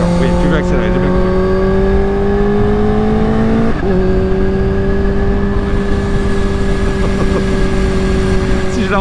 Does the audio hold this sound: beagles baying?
no